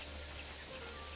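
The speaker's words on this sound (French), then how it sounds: "C'est le problème du son de la pluie dans ce jeu, je trouve qu'il est vachement fort par rapport au reste." Rain from the video game Jagged Alliance 3, a steady dense hiss of falling rain that is loud and unbroken throughout the brief moment, with no speech over it.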